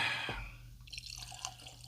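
Laphroaig Select Islay single malt Scotch whisky poured into a glass. There is a brief gurgling splash, then a soft trickle with small drips, close and fairly quiet, with no talking.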